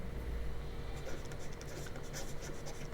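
Pen writing out a maths equation, with faint, soft scratching strokes that come in light bursts against a quiet room. No one speaks.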